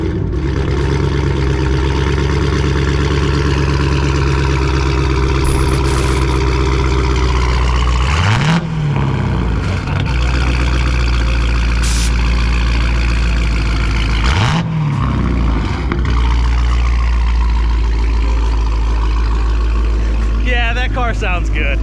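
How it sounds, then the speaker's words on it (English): A Mopar SRT car engine runs with a deep, steady low rumble throughout, loud and close, with two brief throttle blips rising and falling, while people talk over it. "Car sounds good."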